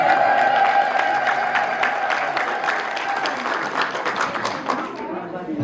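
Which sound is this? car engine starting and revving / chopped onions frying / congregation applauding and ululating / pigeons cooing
congregation applauding and ululating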